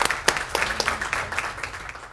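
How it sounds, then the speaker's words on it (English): An audience at a city court event applauds briefly with dense, lively clapping from a crowd at close range. "let's give them a round of applause for that"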